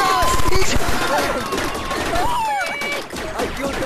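Rapid bursts of gunfire in Rec Room, several sharp shots crackling close together at the start and again later, mixed with excited voices and game sound effects.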